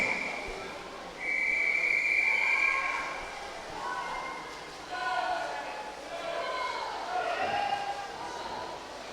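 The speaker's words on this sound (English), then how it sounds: "Over in lane 2, Adam Evans hears the whistle, as does Ethan Sutton." A referee's whistle sounds at a county swimming championship in an indoor pool, giving a sharp sustained blast followed by shorter tones, heard at a distance over the echoing hall and crowd murmur.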